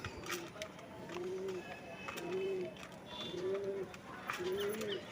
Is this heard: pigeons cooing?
yes